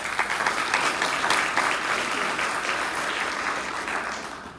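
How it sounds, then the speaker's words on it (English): An audience applauds a panel at a talk on blockchain in Canada: a sustained, dense crowd clapping that holds steady and then fades out near the end, with no voices over it. "Can we all give them a round of applause?"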